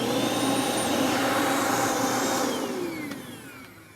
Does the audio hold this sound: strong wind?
no